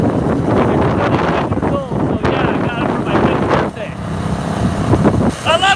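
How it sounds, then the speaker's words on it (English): A 1988 go-kart drives outdoors, with heavy wind buffeting the microphone and a rough engine drone underneath, and a voice shouting over the noise at times. "this is my Go-Kart from back in 1988"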